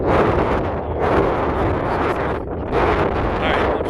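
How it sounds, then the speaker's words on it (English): Strong wind buffets the microphone on a mountain trail in the White Mountains, a loud, continuous roar that surges and eases in gusts. "I'm sure it's too windy to listen to this"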